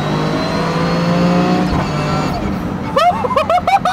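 Turbocharged 400+ whp Toyota Yaris with a stock motor and sequential gearbox, engine roaring and revving hard, then loud clunking shifts with rising and falling pitch sweeps; close, aggressive and continuous with faint background chatter.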